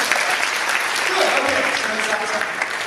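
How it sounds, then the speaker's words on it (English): A crowd at the Lindy Bout 2007 Trad Jazz Division swing dance competition claps in practice, a continuous wash of many hands with cheering voices mixed in throughout. "Let's all practice now. Go ahead and clap."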